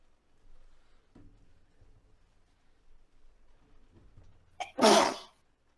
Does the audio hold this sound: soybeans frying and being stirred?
no